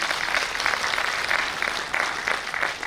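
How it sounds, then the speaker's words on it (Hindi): An audience at a customer meet in Vrindavan, Uttar Pradesh claps steadily, with rhythmic pulses of fairly loud applause running throughout and no speech. "ताली थोड़ी बढ़ा दी"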